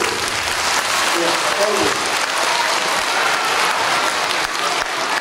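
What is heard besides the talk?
audience applause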